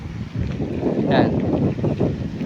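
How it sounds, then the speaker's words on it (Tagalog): Strong wind buffeting an outdoor microphone during a bicycle ride, a continuous low roaring rumble with gusty swells, fairly loud and steady throughout. "Weather update, malakas na din yung hangin."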